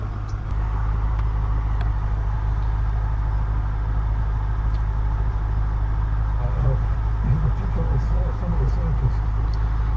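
A 2007 Audi RS4 with around 141,866 miles running at idle, a steady low engine rumble throughout with someone talking over it near the end.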